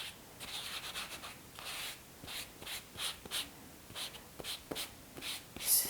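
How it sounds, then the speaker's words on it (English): Distress Oxide ink is rubbed across lace in a series of soft, rhythmic scratchy strokes, quiet and close, roughly ten passes with brief pauses between them. "I'm just going to rub this across here."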